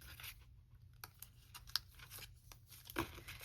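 Paper prop coins are shuffled and mixed by hand, giving soft crinkling and rustling with a couple of sharper taps, close and quiet with no voices.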